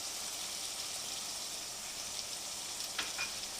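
Chicken pieces frying in a pan for chicken capsicum masala, a steady bright hiss and sizzle with faint stirring, close and constant throughout.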